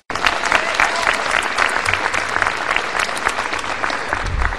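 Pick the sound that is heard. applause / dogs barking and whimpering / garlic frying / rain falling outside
applause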